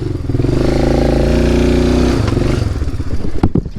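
An ATV four-wheeler engine revs hard and steadily while climbing a washed-out gully on a farm, a loud close drone that sputters and drops off near the end.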